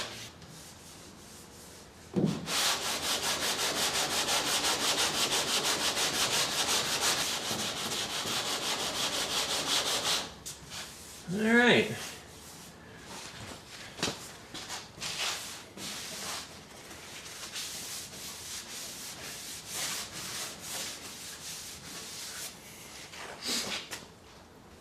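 Rhythmic scratchy rubbing of a sanding block wet sanding a surface for several seconds, then scattered scrapes, taps and handling noises; a voice speaks briefly.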